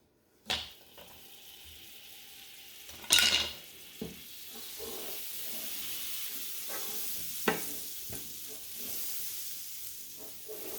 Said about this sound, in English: I'm just going to get a good melt of this butter all around the pot here